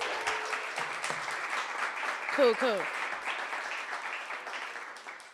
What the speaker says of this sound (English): Y'all please clap it up for Grace one more time.